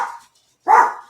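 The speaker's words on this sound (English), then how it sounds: "Dogs." A dog barks twice, close and loud, a short yelp followed by a fuller, sharper bark after a brief gap.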